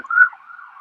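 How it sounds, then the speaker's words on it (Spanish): An ambulance siren wails briefly, a steady tonal wail that swells loudly at first, then holds at a lower, fainter level as it passes. "Ahí la ambulancia."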